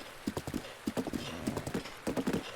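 Rhythmic clip-clop of horse hooves trotting in The Legend of Zelda: Breath of the Wild, steady and fairly close, repeating in quick groups throughout.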